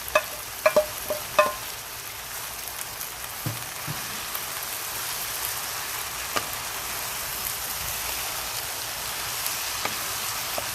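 Vegetables and smoked sausage stir-fry in a pan with a steady, even sizzle, like rain on a surface. A few sharp clanks of a utensil on the pan come early, then the sizzle carries on alone.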